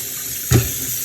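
A kitchen tap runs cold water over cooked beets, a short steady splashing rush with a brief louder surge midway.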